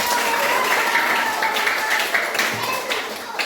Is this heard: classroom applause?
yes